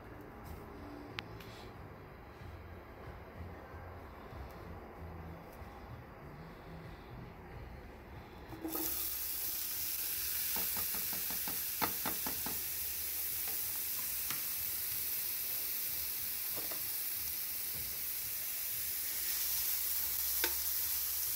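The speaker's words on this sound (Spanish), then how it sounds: "Ya que caliente viene el aceite para ponerle la cebolla con el chile." Onion and chile frying in hot oil for Michoacán-style chicken quesadillas, quiet at first, then a steady loud sizzle bursts in partway through and continues with occasional clicks and stirring taps, no talking.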